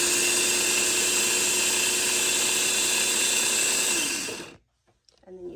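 An electric burr coffee grinder grinds coffee beans in a loud, steady whine that runs continuously for about four seconds, then cuts off abruptly, leaving faint handling sounds afterward.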